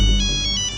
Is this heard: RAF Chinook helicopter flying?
no